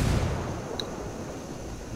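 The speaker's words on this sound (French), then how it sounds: "Frag lancé" A frag grenade explosion in the tactical shooter Ghost Recon Wildlands, a heavy boom at the start that rolls off into a fading rumble, with a faint sharp ping partway through.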